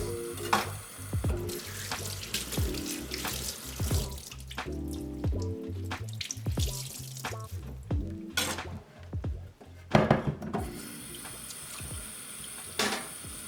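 Fish-cutting kitchen tools clink and clatter in a sink while water trickles and drips, with scattered knocks throughout.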